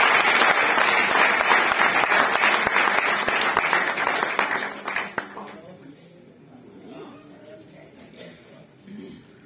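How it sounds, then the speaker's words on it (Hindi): Loud applause from a club gathering's audience for the whole team fills the first five seconds, then quickly fades to quiet room noise with a few scattered claps. "मैं चाहता हूं एक बार जोरदार तालियां हमारी पूरी टीम के लिए होनी चाहिए।"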